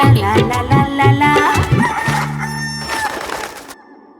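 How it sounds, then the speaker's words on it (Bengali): A rooster's crow comes as a few bright, pitched calls in quick succession, close and loud, followed by a long held tone that trails off into silence. "গলা ছেড়ে মোরগ বাবু কুকুরকু ডাকে"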